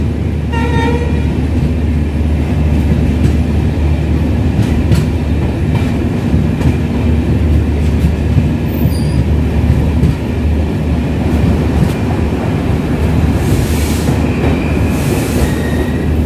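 The 12088 Shatabdi Express pulls out of Udalguri railway station, heard from on board as a steady, loud rumble with rolling wheel clatter and occasional metallic squeals, with no talking.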